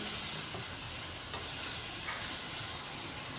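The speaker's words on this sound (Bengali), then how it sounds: "এবার চিকেনটা দিয়েও কিছুক্ষণ কষাবো।" Chicken pieces, first lightly fried with salt and turmeric, being stir-fried with spices and potatoes in a pan, giving a steady, close, even sizzle with soft stirring throughout and no voices.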